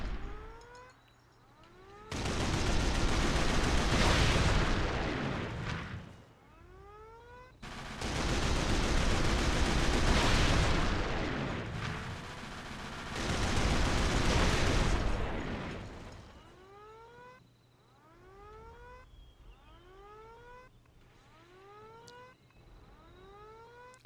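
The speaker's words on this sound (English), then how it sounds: "These aircrafts don't stand a chance against these AA guns" Anti-aircraft guns blaze in The Outfit video game, three long sustained bursts of loud continuous gunfire and explosions, separated by quieter stretches where rising whistling tones of aircraft or shells sweep repeatedly.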